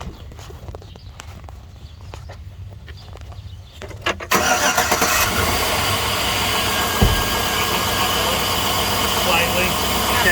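Engine of a 2002-2014 Chevy Tahoe 5.3 with a worn drive belt tensioner, a quiet clatter before it starts and then a steady close idle with a thin whine running through it.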